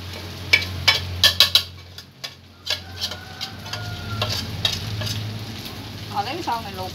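Rice is stir-fried in a hot pan with pork fat and shrimp, a steady sizzle running beneath sharp clacks of a utensil scraping and tapping the pan in quick bursts.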